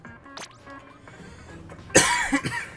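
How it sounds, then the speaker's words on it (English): A single harsh cough bursts out near the end, close and fairly loud, after a quiet stretch. "I'm convinced this cough will never end."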